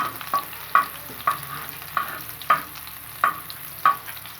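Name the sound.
garlic and ginger frying with liver on a tawa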